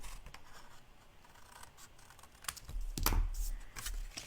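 Paper being cut with scissors while making an explosion box, small crisp snips and rustles close by, then a louder cluster of cuts and paper handling toward the end.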